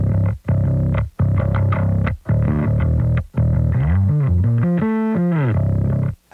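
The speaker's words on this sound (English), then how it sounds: "We have a DI and we have a distortion, which I believe was a Rat through an SVT" Heavily distorted bass guitar, a Rat pedal driving an Ampeg SVT amp, plays a loud, gritty riff in short chopped phrases with brief gaps, then slides and bends through sustained notes, solo and close.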